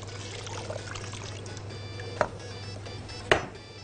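Hot water poured from a vessel into a pot of rice for Egyptian koshari, a quiet steady pouring hiss over a low kitchen hum, with two brief sharp knocks near the end.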